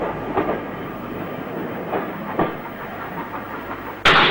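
A King class steam locomotive at London Paddington on a 1960s train to Wolverhampton, with slow, uneven exhaust chuffs over steady rumbling, then a sudden loud burst of hissing steam at the end.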